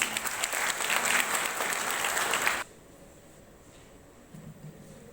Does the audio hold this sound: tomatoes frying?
no